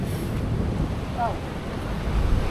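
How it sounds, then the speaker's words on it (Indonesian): Ocean waves break against the coral rocks at Karang Taraje beach, a low churning surf roar mixed with wind buffeting the microphone, continuous and fairly loud. "ketika dia ada ombak yang ngehajar karang yang di sana itu, terus dia nyembur ke atas gitu"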